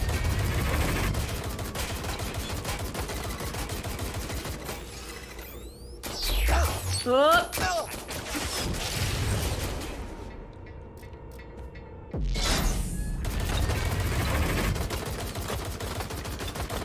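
Rapid bursts of gunfire in the video game Watch Dogs: Legion with mechanical clatter, loud and continuous, pausing briefly before resuming.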